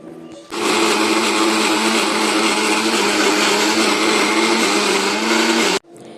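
A kitchen mixer grinder whirs loud and steady as it grinds cooked ingredients into a paste. The motor kicks in abruptly, holds an even high-pitched roar for about five seconds, then cuts off sharply.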